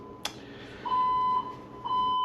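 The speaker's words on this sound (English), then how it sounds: "they would decide to pull the fire alarm just to let us know that they were listening" A building fire alarm gives a sharp click, then two long electronic beeps at an even pitch, each lasting about half a second, loud and close in an otherwise quiet room.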